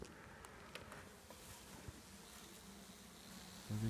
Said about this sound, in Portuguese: Aí, ó, bastante abelha.